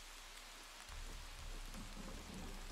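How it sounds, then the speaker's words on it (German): Rain pours in a dark, foggy forest in the game Wartales, a dense steady hiss that grows fuller and heavier partway through, with low rumbling underneath and no speech. "Es regnet, es ist dunkel, es ist neblig und wir werden angegriffen."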